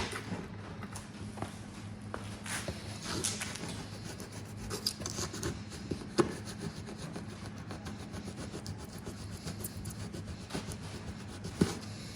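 Sanding an MG ZS rear bumper by hand, a close, steady scratchy rubbing that goes on without a break, with a few faint knocks over a low background hum.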